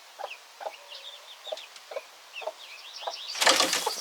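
A hen clucks repeatedly in short, evenly spaced bursts while trying to get up into a nesting box in a barn, ending with a louder burst of flapping and scuffling.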